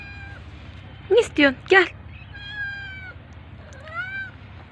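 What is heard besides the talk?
pregnant cat meowing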